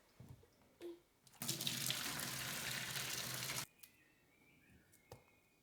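Boiled potatoes are drained in a kitchen sink. Brief clatter comes first, then a steady rush of water pours for about two seconds before light clinks, heard close.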